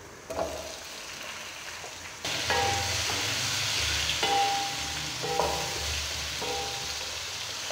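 Potato pieces frying in hot oil, a steady hiss that swells as they drop into the pan, with occasional stirring clinks over a continuous sizzle.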